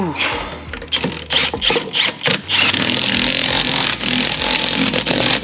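New lug nuts are run down as wheels go back on a 17-year-old Nissan 350Z after a brake job: clattering ratchet bursts, then a loud continuous mechanical whirring close by.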